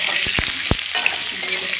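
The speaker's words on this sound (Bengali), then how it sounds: "নুন দিয়ে ভেজে নিই, বেগুনটা লাগছে।" Brinjal pieces frying in oil in a pan, a steady close hiss of sizzling oil broken by a few sharp crackles and pops near the start, with no voices.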